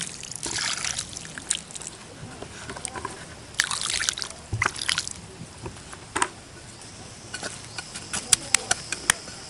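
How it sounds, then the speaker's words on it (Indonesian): Water trickles and sloshes onto potting soil in a 2-liter polybag for growing chili peppers, soaking the mix with a close, uneven dribbling and squishing sound. "kita siram semua di media tanamnya Sobat Tani sampai dengan basah"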